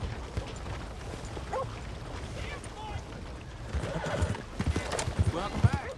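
Horse hooves clip-clop steadily in the western video game Red Dead Redemption 2, with a brief whinny and snorts near the end, under some talk.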